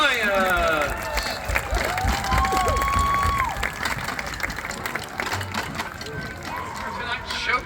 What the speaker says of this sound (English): round of applause, please, for the Fremont Ross Marching Little Giants.